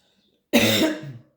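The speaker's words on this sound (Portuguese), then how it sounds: "Peço desculpa pela minha tosse." A single harsh, close cough bursting out after a moment of silence and trailing off within about a second.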